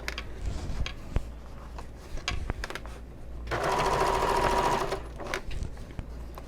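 A sewing machine top stitches a fabric bag toward its base, with short mechanical bursts, clicks and handling noises before a sustained, louder run of stitching in the middle, then more brief stops and starts.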